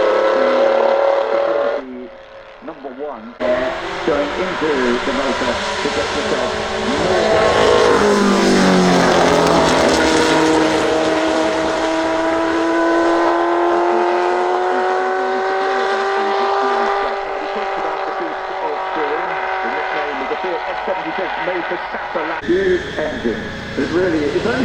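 Four-cylinder race car at the Goodwood Festival of Speed, its loud engine rising and falling through revs as it accelerates past up close, with a commentator talking over it.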